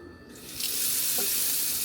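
Water pours steadily from a tap fitted with a Moen Smart Flo valve, starting quieter and swelling into a constant splashing rush that runs on without pause.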